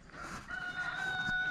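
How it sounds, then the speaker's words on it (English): Chickens on a homestead, with a rooster crowing and hens clucking close by over a steady farmyard hum, including a sustained crow in the second half. "We got birds everywhere."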